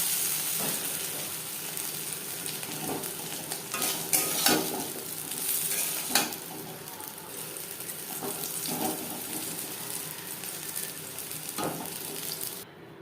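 Potatoes and paneer frying in oil with a bay leaf in a wok, a continuous sizzle broken by repeated scraping and clattering stirs.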